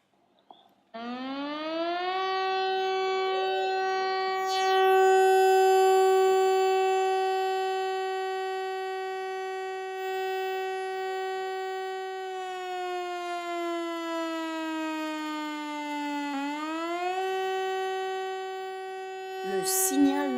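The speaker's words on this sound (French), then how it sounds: "Le signal national d'alerte, variation sur 3 cycles successifs." French national alert siren wailing through three successive rising-and-falling cycles, a loud steady electronic tone with harmonics that slides down and back up, clear and alone.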